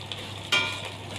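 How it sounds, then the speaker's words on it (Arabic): Vermicelli is stirred into hot onion oil for koshari, a soft background hiss broken by a sudden sizzling burst as it is turned, which then fades gradually. "هقلب الشعريه لغايه ما تحمر معايا"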